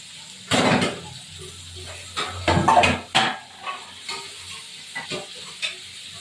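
Onion frying in a pan, with bursts of sizzle and scraping as it is stirred, quieter pauses between the strokes.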